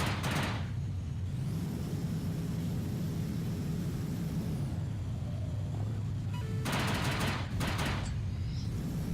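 Rapid bursts of weapon fire from a spacefighter in the space combat game Angels Fall First, a salvo at the start and another near the end over a steady engine drone and whooshing ambience.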